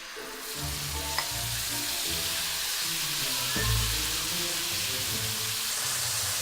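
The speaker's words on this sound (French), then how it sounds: "Une fois celle-ci chaude, mettez vos restes à l'intérieur." Leftovers frying in a hot pan give a steady, close sizzle with crackling spatters and a couple of brief stirring scrapes, heard alone without voices.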